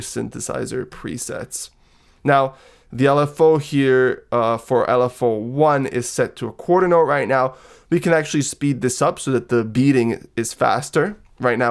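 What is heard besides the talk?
No everyday noises stand out.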